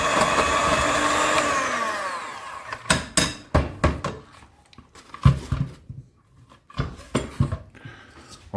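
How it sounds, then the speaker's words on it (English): Savoury scone mixture whisked in a bowl in a home kitchen: a motor whine winds down at the start, followed by a series of close, irregular clattering knocks against the bowl. "I'll just give this another little quick whisk in"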